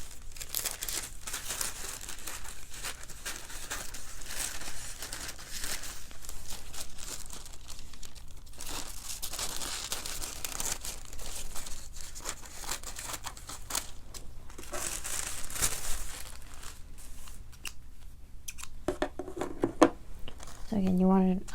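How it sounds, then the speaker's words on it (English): Paper is cut out with scissors while an image is trimmed for a tattoo sketch, giving continuous close crinkling, snipping and rustling; brief voice sounds appear near the end. "So first thing I'm going to do is just cut out this image."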